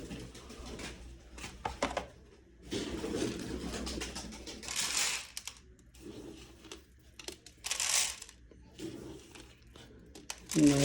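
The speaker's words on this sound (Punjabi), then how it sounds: "ਪਹਿਲਾਂ ਦਾਣੇ ਪਾ ਦਈਏ ਵੀ ਕਬੂਤਰਾਂ ਨੂੰ" Soft pigeon coos come and go amid rustling and crinkling nearby as grain is scattered for them, with occasional bursts of noise.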